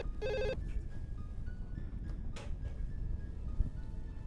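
A telephone rings in a short burst near the start, a loud warbling electronic ring that then gives way to quiet room sounds and a few small knocks.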